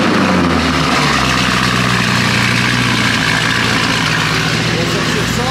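Several car engines run loudly with a deep, steady idle rumble while the cars are moved, and voices talk over the noise.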